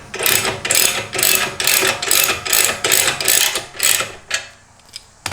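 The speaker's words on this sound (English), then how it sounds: "So we'll go ahead and tighten this down. Again, this is a 14 millimeter." A ratchet tightening a 14 mm exhaust tip bolt on a BMW F30, heard as a series of loud, close, rhythmic clicking bursts that slow and stop near the end.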